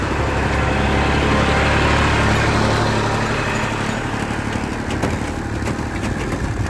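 A reaper machine cutting a crop in a field, its engine running loud and steady with a continuous low mechanical drone and rattling throughout, and no talk.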